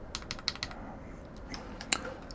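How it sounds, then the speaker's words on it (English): Keys tapped on a computer keyboard during a PC build, a quick irregular run of light clicks close by, then a pause and a couple of sharper isolated strikes near the end. "It's this fucking stupid keyboard."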